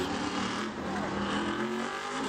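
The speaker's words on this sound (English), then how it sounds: "And now here comes the number 9 car of Kyle Southern" A modified race car roars around the track during qualifying at Bowman Gray Stadium, its engine note loud and sustained with shifting pitch as it passes, joined by faint tire squeal.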